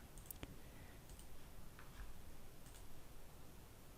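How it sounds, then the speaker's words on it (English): A computer mouse clicks on a web link, giving a faint, short tick or two early on over a quiet, steady room hiss. "Let's click on it."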